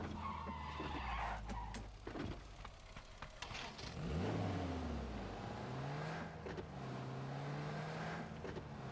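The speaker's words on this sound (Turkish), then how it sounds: "Bu araba yalan daha hızlı gider." A car in PUBG drives fast and skids, with continuous engine drone, rising and falling revs, and tire squeals that sweep up and down, while people talk faintly over the game.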